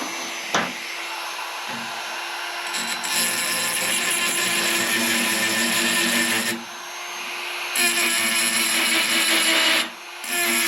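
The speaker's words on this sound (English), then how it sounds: "get the Dremel set up. I'm gonna clean off both sides of this weld" Dremel rotary tool grinding both sides of a weld on an air cleaner baffle, a steady loud high whine running in long passes with brief pauses between them.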